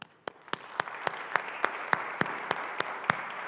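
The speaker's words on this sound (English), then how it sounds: "And I think we should all applaud ourselves right now." Rhythmic applause at a speaking event: a few people clap in an even, regular beat, about a dozen distinct claps over a soft background of scattered clapping.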